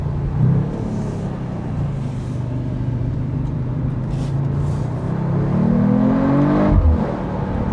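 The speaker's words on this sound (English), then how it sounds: "Oh, the acceleration on this thing is absolutely insane." A 2025 Mercedes-AMG CLE 53 Cabriolet drives along with a low, steady engine drone and road rumble, swelling as it accelerates toward the end with a rising whir, heard from inside the open-top car.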